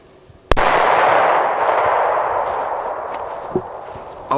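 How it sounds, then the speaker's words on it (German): A Kala Salut firecracker, a loud banger, goes off with one sharp, close blast that rolls into a long, slowly fading roar, followed by a couple of faint knocks near the end. "jetzt der Kala Salut. Gilt auf jeden Fall als ein lauterer Böller als La Bomba."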